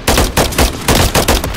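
Loud, close automatic gunfire from the video game Call of Duty: Modern Warfare 3, coming in several rapid bursts separated by short breaks, with no talking.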